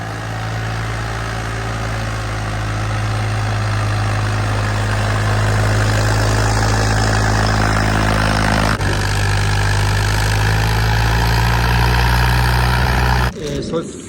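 A Swaraj 855 four-wheel-drive tractor with a half-modified fuel pump idles in a loud, steady low rumble for several seconds before cutting off abruptly near the end.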